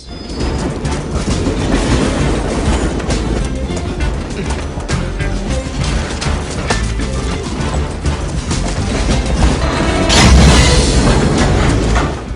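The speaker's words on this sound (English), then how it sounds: "they run back and forth between an onslaught of slow-moving freight trains." Steady heavy rumble and clatter of slow-moving freight trains rolling by, continuous and loud with metallic rattling throughout, swelling slightly near the end.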